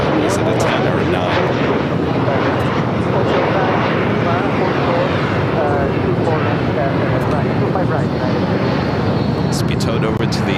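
A Boeing 787-10 Dreamliner is towed across the ramp at LAX, with a loud continuous roar of jet and airport engine noise throughout and a voice speaking over it.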